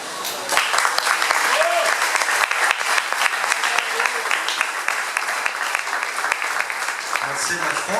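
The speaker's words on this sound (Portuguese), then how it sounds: "Palmas para Jesus" A church congregation breaks into loud, sustained applause, many hands clapping together close and steady for several seconds after a brief lead-in, with no talking over it.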